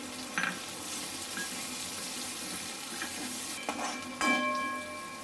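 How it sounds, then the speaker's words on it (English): Cabbage frying in hot oil in a wok for Jain Chinese fried rice, a steady close hiss with a few clinks and scrapes of a spatula near the end. "The oil has heated up. We first add the cabbage."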